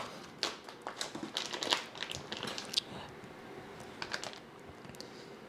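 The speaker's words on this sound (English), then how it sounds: "cutting it with a scissors here so we can open up the package." Close, irregular snips and crinkling as scissors cut open a plastic tofu package, a quick series of sharp clicks and rustles with no talking.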